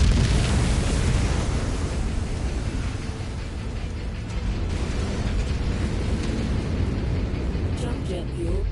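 A mech explosion in a city in the video game MechWarrior 5: Mercenaries, a loud, sustained rumbling roar that gradually thins out, with faint game tones near the end.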